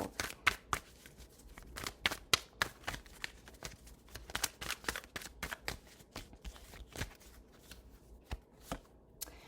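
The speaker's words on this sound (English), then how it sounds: "Let's pull 3 oracle cards for you." Oracle cards shuffled by hand, a rapid run of crisp flicking and riffling slaps in uneven bursts, close and fairly quiet, without talking.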